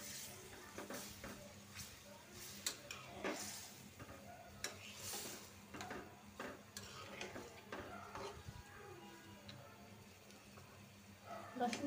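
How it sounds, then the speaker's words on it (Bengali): Dried ribbonfish cooks in a small pan with a little added water, a soft bubbling simmer under occasional stirring and clinks of utensil on metal, quiet and close. "অল্প একটু পানি দিব যাতে মাছটা একটু সিদ্ধ হয়"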